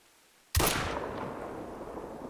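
A single sharp Kullman .22H rifle shot cracks out in the hunting game theHunter: Call of the Wild, loud and sudden after near silence, followed by a long fading echo rolling across open terrain.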